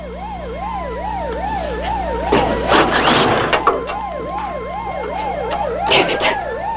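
A police siren wails in a steady repeating rise-and-fall cycle over a low traffic rumble, with bursts of noise and clatter swelling through the middle and again near the end.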